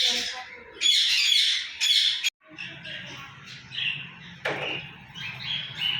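Caged birds squawking and chirping at a bird farm, loud shrill calls close by with a steady low hum behind, the calls breaking off briefly midway then resuming.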